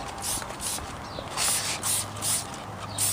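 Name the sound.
spraying rim cleaner on car wheels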